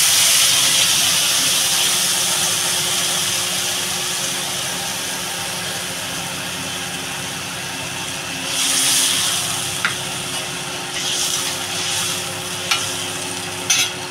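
Water poured into a pan of fish curry with potatoes and bitter gourd, a steady loud sizzle and steamy hiss that gradually settles, with a few brief clinks and stirring scrapes near the end.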